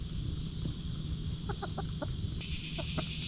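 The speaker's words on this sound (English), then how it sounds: "Look at that little rooster over there." A young rooster clucks in a series of short, quick calls, a cluster of four followed by a pause and two more, moderately close over steady outdoor background noise.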